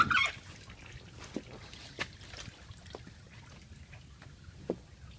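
Coolant trickles steadily and faintly from the opened 12mm plastic drain plug of a 2008 Mazda CX-7 radiator, with a few soft clicks and taps from nearby work.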